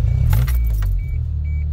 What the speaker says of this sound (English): So once we turn the alternator on,